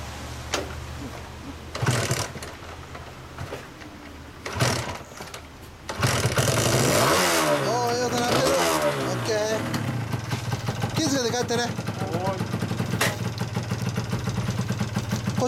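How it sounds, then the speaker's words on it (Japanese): A Kawasaki AR125S two-stroke motorcycle is kick-started after a few thumps, then runs with a buzzing, crackling idle and some blips of revving, while people chat nearby. "ツーサイクルサウンド聞かせてくれる？"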